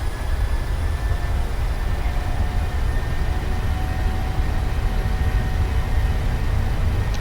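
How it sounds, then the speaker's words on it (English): A PMDG 737-800 airliner in Microsoft Flight Simulator 2020 spools its engines to takeoff thrust, a dense, steady, loud jet roar holding level throughout with a faint high whine on top. "push toga, so take off thrust"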